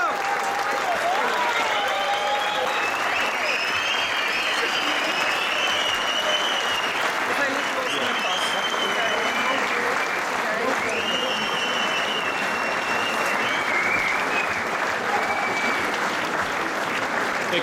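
A crowd at an award ceremony for a Tilburg alderman claps long and hard, with steady dense applause mixed with scattered whistles and cheers rising over it.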